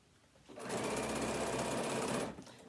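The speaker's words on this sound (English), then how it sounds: "I'm opening the binding up and stitching on that fold" Sewing machine running steadily for about two seconds while stitching binding along a fold on a fabric phone stand, close and loud, starting and stopping cleanly.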